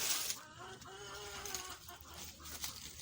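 Hens in a traditional poultry setting cluck softly a few times at moderate distance, short throaty calls over quiet background hiss.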